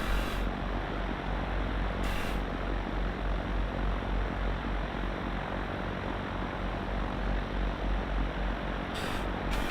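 An Alabeo Mooney M20R Ovation propeller plane in X-Plane 11 roars steadily through its takeoff run, with a loud, continuous engine drone and no pauses.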